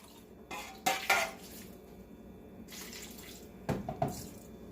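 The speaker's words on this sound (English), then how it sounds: "then you pour the remaining tomato sauce over top and add just enough water to cover the grape leaves" Tomato sauce and water are poured over stuffed grape leaves in a pot, giving a few bursts of splashing and trickling with clinks of the pot between quieter stretches, close and moderately loud, without speech.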